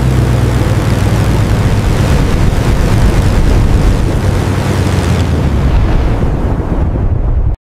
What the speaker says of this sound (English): You can hear the storm and the engine noise blend naturally with the visuals.